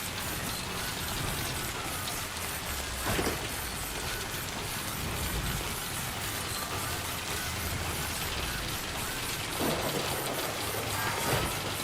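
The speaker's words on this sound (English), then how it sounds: "Oh, I think it just turned into the bad rain." Steady broadband hiss of rain in the video game Metroid, the weather shifting to a harsher, contaminated rain, constant and fairly loud with a few brief louder bursts and no talking.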